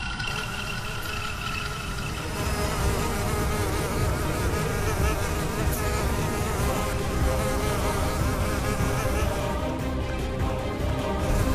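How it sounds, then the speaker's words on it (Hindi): Loud, steady insect-like buzzing of robotic, fireproof mosquitoes in a Hindi kids' show, a dense droning whine that swells after two seconds and holds without a break, with no talking. "मेरे मच्छर न सिर्फ रोबोटिक हैं बल्कि फायर प्रूफ"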